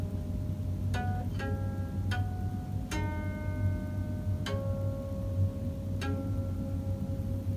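A guqin, the ancient Chinese zither, with a sequence of about six individually plucked strings mapped from a molecule, each a sharp pluck with a long ringing tone, spaced irregularly over steady low background rumble.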